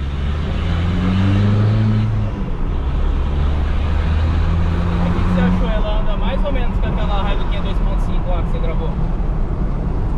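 A chipped Volkswagen Amarok 2.0 pickup with a straight exhaust accelerating: a loud, steady engine drone with shifts in pitch as it revs, heard from inside the cab, with brief talk partway through.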